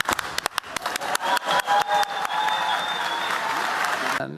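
Audience clapping their hands at the Ig Nobel Prize ceremony, scattered claps building quickly into loud, sustained applause from a large crowd that gradually softens toward the end.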